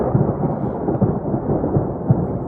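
Deep thunder rumbles loud and continuous after a lightning strike on a Colorado mountain hike near La Plata Peak, a low rolling roar with slight swells and no talking.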